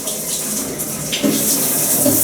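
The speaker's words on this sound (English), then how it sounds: "Oh, and the crevice shower is turned on." A hotel shower runs at the Canopy by Hilton Embassy Row in Washington, DC, giving a steady, close, loud hiss of falling water that swells slightly partway through.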